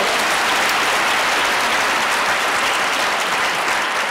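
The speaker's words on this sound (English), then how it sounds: "Let's have a big round of applause for Assemblywoman Kathryn Nolan" A packed audience bursts into sustained, dense applause, steady and loud for the whole stretch with no pause, welcoming Assemblywoman Kathryn Nolan at Governor Cuomo's State of the State address in Queens.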